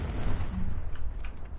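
Gunfire from a Free Fire or PUBG match crackles in dense, continuous bursts of muffled rapid shots, fairly loud and steady throughout with no talking.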